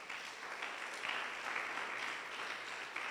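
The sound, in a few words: church congregation applauding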